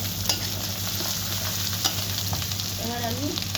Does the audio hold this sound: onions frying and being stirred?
yes